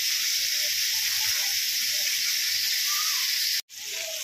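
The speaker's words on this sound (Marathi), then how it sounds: "ही आपली हलवा मच्छी मस्त अशी छान फ्राय झालेली आहे." Pomfret (halwa fish) sizzles steadily as it fries in a pan, a loud continuous hissing crackle close up that breaks off abruptly near the end before resuming.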